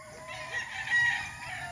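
A gray hatch gamecock at a gamefarm crows once, a fairly faint drawn-out cock-a-doodle-doo that peaks midway over a quiet farmyard background.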